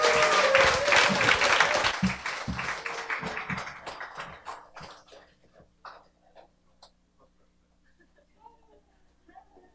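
An audience applauds to welcome guests at an indoor event, loud dense clapping that thins out into scattered claps and fades to near quiet.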